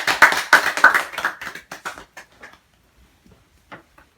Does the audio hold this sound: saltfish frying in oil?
no